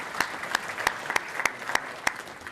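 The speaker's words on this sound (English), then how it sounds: "So give yourselves a round of applause for getting up this morning." A large audience at a city's State of the City address claps together steadily, with sharp individual hand claps standing out of the crowd applause.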